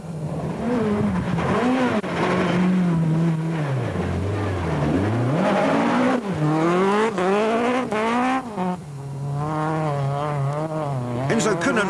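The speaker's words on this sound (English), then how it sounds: "The Sassel dual-fuel Volkswagen Golf of Habig and Judd are battling with tyres and handling." Volkswagen Golf dual-fuel rally car driven hard on a 2001 mountain trail rally stage, its engine note rising and falling through gear changes, loud and close, with commentary voices running over it.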